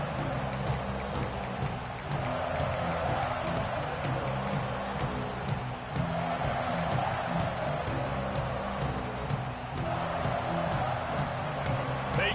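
Stadium crowd at a Nebraska college football game against K-State, a broad steady roar of many voices filling the whole stretch with swells of cheering, distant and continuous.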